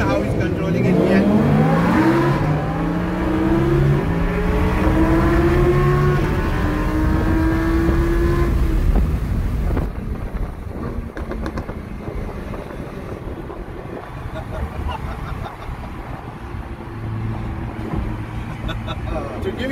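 Lamborghini Huracan lapping Yas Marina Circuit, a loud engine roar rising through the revs then dropping abruptly as it shifts, heard from inside the cabin with people talking over it.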